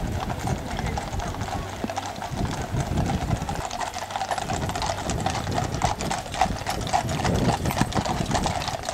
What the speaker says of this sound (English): there you'll catch the next phase, which is the horse guards coming through.